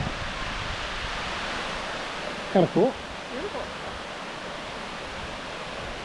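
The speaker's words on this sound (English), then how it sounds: "So there's the waterfall there." Steady broadband rush of a waterfall in Shenandoah National Park in winter, heard from a distance as a constant wash, with brief speech over it midway.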